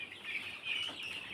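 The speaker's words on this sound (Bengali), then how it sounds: "এখানে 300+ মুরগি আছে," Sonali chickens in a poultry shed housing over 300 birds, giving a steady, dense chorus of clucking and chirping close by, with no talk.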